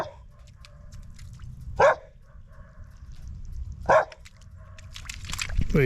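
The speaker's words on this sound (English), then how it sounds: "You gonna bark at me a little, huh, buddy?" A dog barks twice, about two seconds apart, loud and sharp with a slight echo, out on a rural trapline in Illinois or Kentucky; outdoor background noise fills the quieter stretches.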